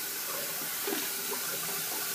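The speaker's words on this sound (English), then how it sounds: "Washing out the bowl." Tap water running into a shaving lather bowl as it is rinsed out, a steady soft splashing flow, fairly quiet and close.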